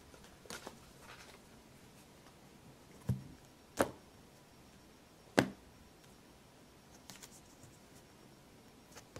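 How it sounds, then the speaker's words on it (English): Tarot and oracle cards being shuffled and cut at a reading table, a few soft rustles and then three sharp, close card snaps spaced apart over quiet background. "Shuffle a little bit and then cut the cards."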